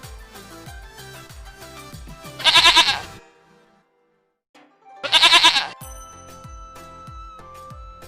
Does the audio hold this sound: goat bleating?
yes